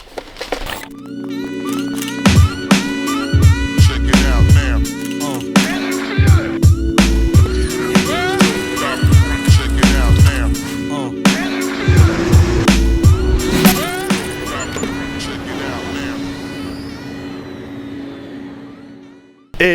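A BMW E36 with a V8 engine revs hard and close during a drift training session, with repeated sharp throttle blips and bangs, rising engine howls and tire noise, then slowly fading away.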